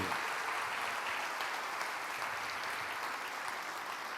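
Sustained applause from a church congregation fills the space, a steady dense wash of clapping that stays loud and even throughout with no pauses.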